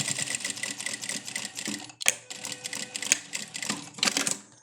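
A sewing machine stitching a bag strap, its needle chattering in fast, steady bursts with brief pauses and restarts, close up and with no voices over it.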